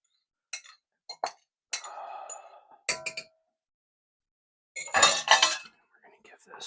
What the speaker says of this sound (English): We're going to give this a stir to combine.